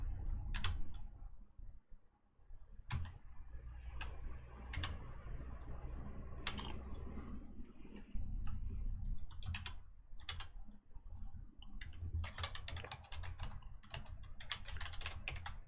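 Keys clatter on a computer keyboard as someone types out HTML heading text, quick bursts of clicks with short pauses between words, close but fairly quiet, no voices.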